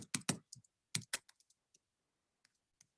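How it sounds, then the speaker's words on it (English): Typing on a computer keyboard: a quick cluster of loud, close keystrokes at the start, then sparser, fainter taps trailing off, with no talking. "I'm typing it in."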